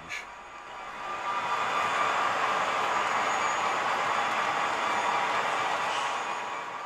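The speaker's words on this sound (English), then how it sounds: "Soon the train will ease into the yard" A Denver and Rio Grande Western freight train rumbles past close by in Helper, Utah, a steady broad roar of rolling wheels and cars that swells early and holds.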